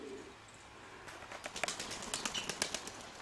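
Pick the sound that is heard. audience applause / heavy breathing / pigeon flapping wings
pigeon flapping wings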